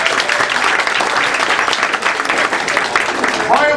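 Theatre audience at a comedy show applauding loudly, a dense, steady wash of many hands clapping throughout, close and full, with a few voices mixed in near the end.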